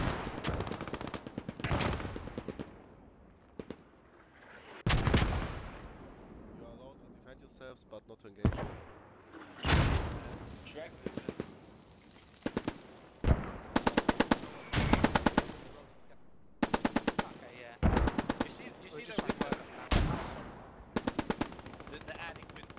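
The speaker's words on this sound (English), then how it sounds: "He gets sprayed down by the MG42." MG42 machine gun bursts in the WWII shooter Post Scriptum, rapid rattling volleys repeating in clusters near and far alongside other gunfire, with a voice talking over the shooting.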